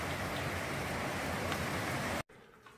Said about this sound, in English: It's windy and rainy still.